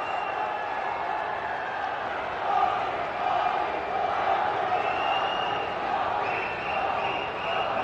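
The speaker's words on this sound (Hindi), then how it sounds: "जोरदार तालियों से स्वागत माननीय प्रधानमंत्री जी का।" A large crowd at a national highway inauguration event in Haryana welcomes the Prime Minister with a sustained roar of applause and cheering, a dense distant-sounding wash with no pauses.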